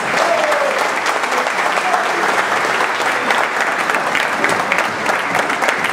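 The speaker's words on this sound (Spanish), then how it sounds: "A todos ustedes, aplauso para ustedes" An audience at a welcome ceremony breaks into loud, sustained applause, a dense wash of many hands clapping evenly throughout with a faint murmur of voices beneath.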